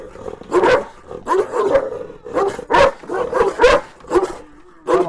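A Kangal dog barks repeatedly in short bursts with whimpering and yipping between them. The sounds are loud and close, with an uneven rhythm across the clip.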